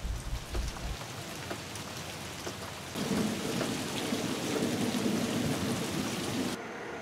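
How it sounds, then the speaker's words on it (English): Night thunderstorm: steady rain patters on surfaces with low thunder rumbling, and the downpour swells louder partway through before easing slightly near the end. No one speaks. "love watching the thunderstorms at night this time of year."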